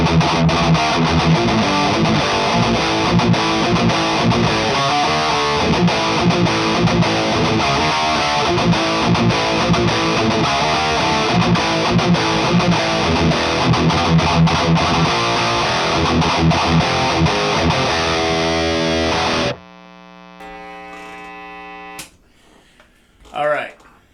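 A distorted electric guitar plays through an Orthos Mark II amp in a room, loud and continuous for about twenty seconds, then stops abruptly, leaving a few sparse notes and a brief final burst.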